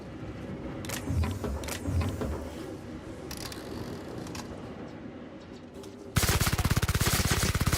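Turret gunfire in The Outer Worlds, scattered shots over busy game noise, then a dense, rapid automatic burst rattling loudly through the final seconds.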